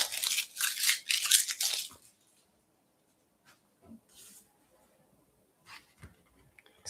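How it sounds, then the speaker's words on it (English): Backing peels off a sticker sheet in a close, rasping tear lasting about two seconds, followed by a few faint rustles and taps. "I'm going to peel the backing off of this"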